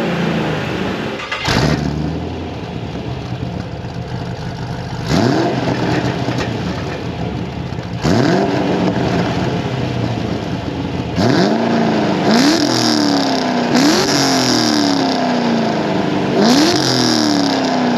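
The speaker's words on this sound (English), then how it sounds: "And now we're gonna start it. You're gonna like this." A 2006 Pontiac GTO engine starts and revs, a loud nearby idle broken by repeated throttle blips that rise and fall in pitch, growing more frequent toward the end.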